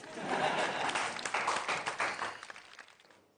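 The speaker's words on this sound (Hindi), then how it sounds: "पंडित जी के लिए तालियां, और शरीफ आपके लिए भी तालियां" A studio audience at a comedy show applauds steadily, a thick wash of many hands clapping that holds for a few seconds and then gradually fades.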